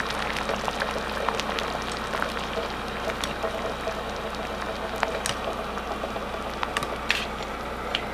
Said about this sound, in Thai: ตอนนี้น้ำเดือดแล้วนะคะ